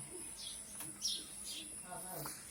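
Caged pet birds, a pair that includes a white-headed male, give scattered high chirps and tweets at close range, faint and sparse against a quiet room hum.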